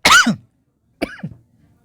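Two sharp, close coughs from a man lecturing on an exam-question discussion, the first strong and the second a softer follow-up after a short pause, with silence around them.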